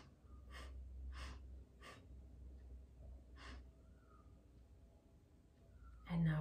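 Deep breathing during a Kundalini yoga session: several close, airy inhales and exhales in a slow, even rhythm, quiet and alone, with a louder breath at the end.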